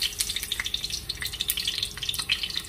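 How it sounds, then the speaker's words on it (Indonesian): Lemongrass, shallots and garlic sautéing in hot oil for a wet rendang, giving a steady close sizzle with dense crackling pops and spatters throughout, no voices. "Ini kita tumis ya, bawang merah, bawang putihnya ya"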